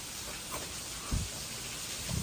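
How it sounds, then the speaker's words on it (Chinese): Heavy rainstorm pouring outside in Guangdong, a dense continuous hiss with a couple of soft low thumps, steady and fairly distant. "现在是6:16，听外面的雨声。 下暴雨啊，"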